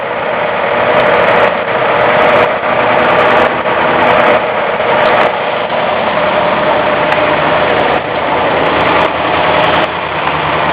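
A 1965 Mercury's engine idles after a cold start, a loud, steady, close mechanical drone with a constant even rumble and no pauses or voices throughout.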